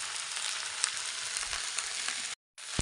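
Vegetables frying in a pan, an even, loud, close sizzle that holds steady, briefly cuts out, then resumes, with no talking.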